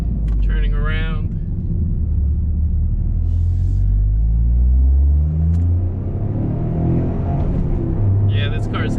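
Toyota GR Corolla engine pulling loud and close through the gears, rising rumble in each gear with shift breaks, someone talking over parts of it.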